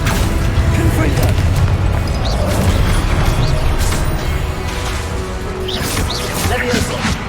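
Confringo blasts go off in Hogwarts Legacy amid combat, loud booming bursts repeated through a dense, chaotic battle mix with spoken spell incantations.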